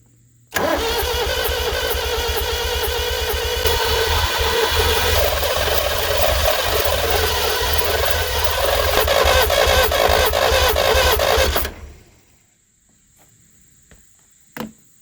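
The starter of an International Harvester B-414 tractor cranks its diesel engine for about eleven seconds, a loud, steady mechanical whirring drone that fails to catch, then cuts off into near silence with a faint knock or two.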